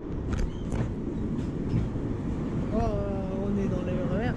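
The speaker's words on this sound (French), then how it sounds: "on est dans le RER, ça bouge un peu" An RER commuter train rolls along in a continuous low rumble inside the carriage, with squealing wheel or brake tones rising near the end, and voices murmur faintly in the car.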